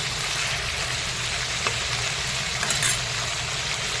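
Eggplant and other vegetables frying in a pan for a tomato drumstick curry, giving a steady, even sizzling hiss that stays close and constant, with a couple of brief clinks near the end.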